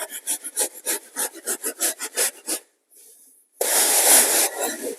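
A plastering float scraping mortar into holes on a wall, heard as a rhythmic series of close, gritty rubbing strokes, a brief pause, then one long continuous rasping sweep.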